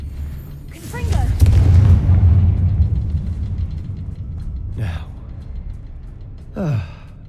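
Confringo fire spell blasts in Hogwarts Legacy: a deep booming explosion with a long rumbling tail early on, followed by two shorter whooshing bursts, fairly loud with no talking.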